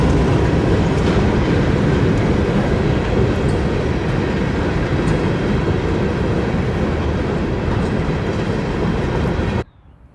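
Delta Southern Railroad EMD GP9 locomotive 1585, built in May 1955, hauls a train past a bayou: a loud, steady rumble with clickety-clack of rolling cars that cuts off abruptly near the end.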